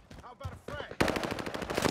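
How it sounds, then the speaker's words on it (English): Call of Duty: Modern Warfare gunfire: after a brief stretch of talk, a loud, rapid burst of close automatic shots fills the second half in a fast, even rhythm. "Oh, I'm getting shot from the right as well"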